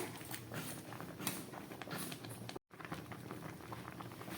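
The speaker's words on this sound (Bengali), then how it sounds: "প্রায় 10 মিনিটের মতো ফুটে উঠলো।" Milk with jaggery bubbling in a pot on a low gas flame, a steady soft crackling simmer with dense small pops throughout, broken by a brief cut midway.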